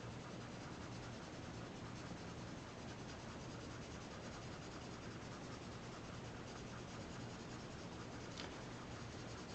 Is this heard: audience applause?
no